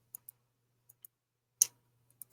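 A spinning digital word wheel for picking a starting word ticks in short, sparse clicks, a few quick pairs with gaps and one louder click, against a faint low hum.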